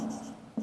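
A pen or pencil scratches briefly on paper during an English lesson, two short soft strokes with a quiet pause between them.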